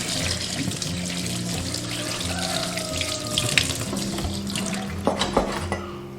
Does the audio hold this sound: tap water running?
yes